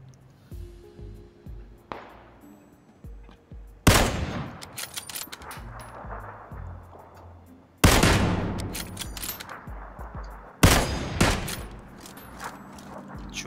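Gunfire in the battle-royale video game PUBG: three loud, sharp shots spaced a few seconds apart, each with a ringing decay. Fainter distant shots and shuffling sounds fill the gaps between them.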